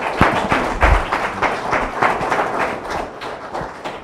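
A small audience at a scientific talk on hydroacoustic fisheries research welcomes the speaker with sparse, uneven clapping. Distinct individual claps stand out, fairly close and moderately loud.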